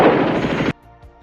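Gunfire and grenade blasts in a World War II battle scene between American and German forces make a loud, dense burst of rapid shots that cuts off abruptly into near silence.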